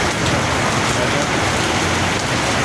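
Steady heavy rain pours down across darkened Hemayetpur during a power cut, a dense, unbroken hiss of drops on surfaces and water-filled roads, close and loud throughout with no pauses.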